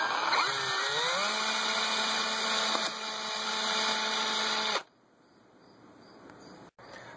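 A power drill whines steadily at close range for several seconds drilling a pilot hole while installing a Blinder HP-905 on a 2003 Mitsubishi Eclipse Spyder, its pitch shifting slightly as it bites in, then cuts off, leaving quiet room noise.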